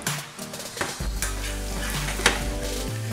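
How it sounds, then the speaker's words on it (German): Garlic roasting in a pan for a Thai-style chicken soup with glass noodles, a steady close sizzle with sharp utensil scrapes and clinks while stirring, over a low background hum, no speech. "Gebe dann meinen Knoblauch hinzu. Das lassen wir jetzt ganz fein anrösten."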